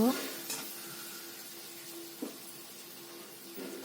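Turmeric powder is stirred steadily through a frying pan, giving a soft continuous sizzle with a few brief scraping stirs, quiet and close, with no talking.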